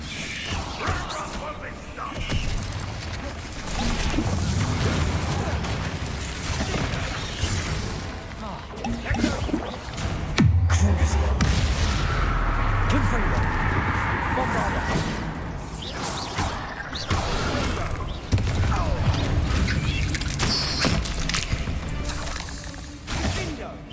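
Confringo and Bombarda spell blasts in the video game Hogwarts Legacy, a dense run of booming explosions, crashes and whooshes sustained throughout amid battle noise, with spoken voices mixed in.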